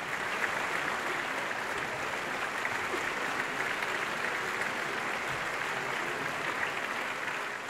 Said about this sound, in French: on l'acclame sans discontinuer pour son sang-froid